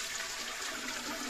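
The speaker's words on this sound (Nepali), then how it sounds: "यहाँ भित्र अब फुल पानी हाल्नुपर्छ।" Water pours steadily into a vessel for brewing raksi in a Magar village home in Nepal, a close, continuous rushing splash with no talking.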